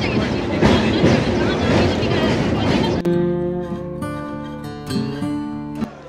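A train on the new Howrah to Digha line, running at about 100 km/h, rumbles and clatters loudly for three seconds before a patriotic song with singing takes over and masks the rail noise.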